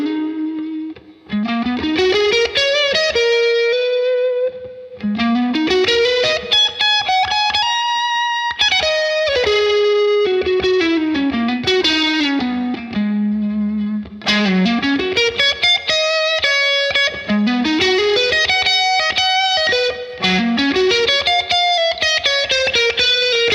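Electric guitar with single-coil pickups played through a Bad Cat Black Cat combo amp, loud and continuous with sustained expressive lead lines, sliding bends and chords under a touch of effects, no talking.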